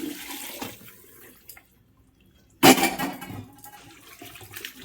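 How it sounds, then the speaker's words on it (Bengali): Water poured from a vessel into a pan of chicken curry, a sudden loud splashing pour that tails off after a few quiet seconds. "পরিমাণ মতো জল দিয়ে দেবো।"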